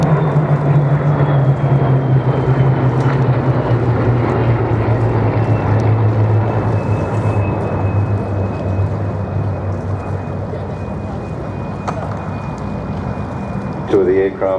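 Propeller aircraft fly at the Duxford airshow with a loud, steady droning engine roar whose pitch slowly falls as they pass, while a commentator talks over it.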